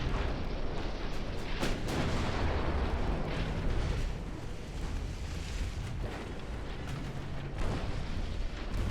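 Battleship guns fire in the naval video game Ultimate Admiral: Dreadnoughts, a dense, rumbling barrage of booms and blasts over a steady roar of battle, moderately distant and continuous, with no voices.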